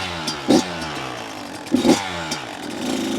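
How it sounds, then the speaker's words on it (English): Kawasaki KX85 two-stroke dirt bike revving up for a wheelie, a buzzy idle broken by two sharp throttle blips and a third rising rev near the end, close by. "let's see if this 85 is easier to wheelie than the 112"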